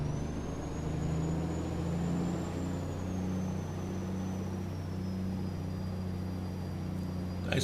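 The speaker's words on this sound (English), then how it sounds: "Nice turbo whistle to the truck." A truck's turbo whistles in American Truck Simulator, a steady high-pitched whine that rises slightly and then eases down, riding over a constant low engine drone with no talking.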